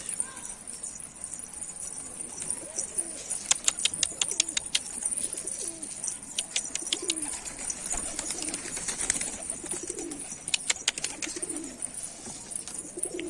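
Pigeons on a rooftop coo softly in the background amid outdoor ambience, with rapid clicking flutters of wings or feet breaking in now and then.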